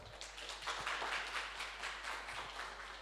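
Faint clapping from the audience at a regional primary school debate tournament as finalists are announced, a soft, distant patter of hands over a low steady hum.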